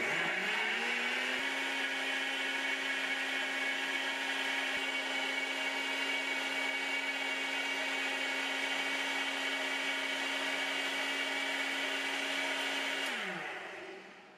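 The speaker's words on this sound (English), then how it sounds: "I'll use the soup blaster mode again, but just blend it for about 3 minutes" A Nutribullet RX blender runs in soup blaster mode with a steady, loud motor whine that holds at a constant pitch for about thirteen seconds, then winds down and fades at the end.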